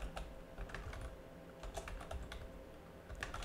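Fingers tap steadily on a computer keyboard, a quiet, continuous patter of irregular key clicks with no voice over it.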